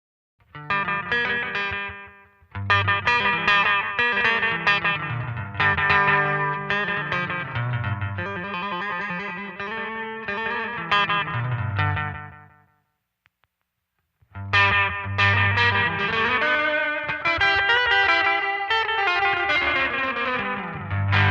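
Electric guitar through an analog delay pedal on a short delay setting, loud chords and lines with tight slapback repeats and a distorted, chorused tone, a brief pause mid-way, no talking.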